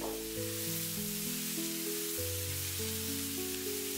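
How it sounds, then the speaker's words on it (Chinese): Mustard greens hit a hot wok over high heat and sizzle in a steady hiss, with a low tonal music bed playing throughout and no speech. "把炒乾水分的芥菜也直接倒在鍋中，開大火，快速的翻炒均勻。"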